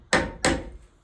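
Two sharp hammer blows ring out on a part of an NV4500 manual transmission during a rebuild, evenly spaced and close, each a loud crack with a short metallic decay.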